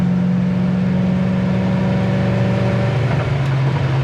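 A 1972 Chevrolet Chevelle cruising at about 60 mph on the highway, its engine holding a steady, even drone with road and wind noise inside the car, loud and continuous with no talking.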